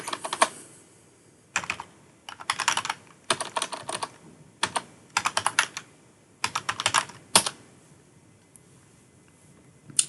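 Typing on a computer keyboard into a web browser on a Windows Server 2022 machine, heard as close, crisp bursts of clicking keystrokes separated by short pauses, with no voices.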